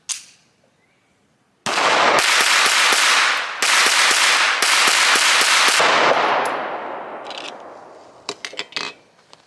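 SA-35 pistol firing several rounds in a rapid string of sharp, loud cracks, followed by a decaying tail and a few fainter metallic clicks and clanks at the end.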